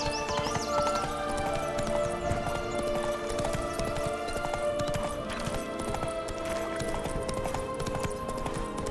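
A horse gallops in The Witcher 3: Blood and Wine with a fast, steady clip-clop of hooves under game music, and a brief whinny comes near the start.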